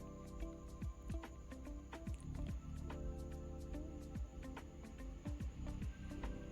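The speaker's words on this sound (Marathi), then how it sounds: "अशा प्रकारे मी या कोबीचं मस्त पाणी काढून घेत आहे" Salted shredded cabbage for veg manchurian is squeezed by hand, giving wet squelching and dripping water in steady close-up handling, with no talking.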